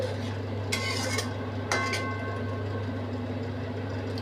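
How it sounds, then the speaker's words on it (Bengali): A spoon stirs a quarter spoon of sugar into a white cauliflower dish cooked with milk and nuts, giving two short clinking scrapes against the pan over a steady low kitchen hum. "আমি এই কোয়াটার স্পুন চিনি দিলাম চিনিটা একটু নেড়ে দিচ্ছি"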